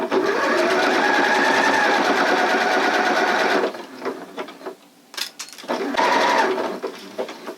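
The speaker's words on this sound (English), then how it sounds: "So let's go ahead and sew." A sewing machine runs a stretch stitch through fabric for a girl's circle skirt waistband, a close, loud, steady rapid needle chatter for several seconds, then stopping with soft handling noises before a brief second burst of stitching.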